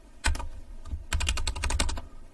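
Keys clatter on a computer keyboard while an HTML doctype declaration is typed: a short burst of a few strokes, a pause, then a quicker run of close, crisp clicks.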